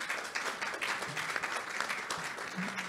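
Audience applause at an Italian archaeology award presentation for the Amedeo Maiuri International Prize, a steady dense wash of clapping across the whole moment with faint voices underneath.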